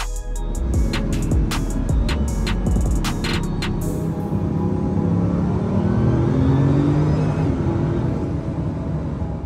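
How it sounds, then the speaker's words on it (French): An 8-litre quad-turbo W16 supercar engine making 1001 horsepower roars loudly and steadily, with a rapid string of sharp clicks at first, then a deep, continuous rumbling drone. "Cette bête est dotée d'un moteur W16 quad turbo de 8 litres produisant 1001 chevaux."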